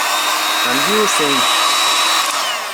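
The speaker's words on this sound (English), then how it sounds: "we need heat gun what generates hot air" Heat gun blowing hot air to dry a cleaned Toyota Prius MAF sensor, a loud, steady close-up roar with a brief tonal wobble near the start.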